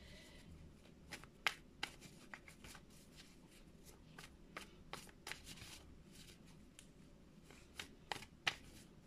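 Tarot cards are shuffled softly and close by, a quiet run of riffling flicks and taps at an uneven rhythm.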